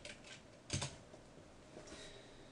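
Computer keyboard keys being tapped to enter a console command in Garry's Mod, a quick cluster of soft clicks with one louder keystroke, heard faintly over a low background hum.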